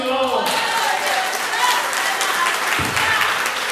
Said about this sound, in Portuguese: Aplausos, Senhor.